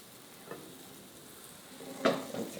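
Crepe batter sizzles faintly in a hot pan as the pan is swirled, with a soft scrape and a brief louder sizzle burst near the end.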